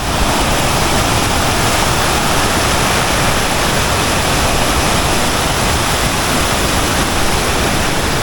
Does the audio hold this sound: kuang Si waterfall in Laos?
yes